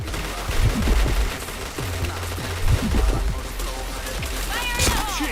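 Gunfire in a shooting video game, with several loud bursts and single shots rising over steady background game noise, mixed with voices and in-game sound effects.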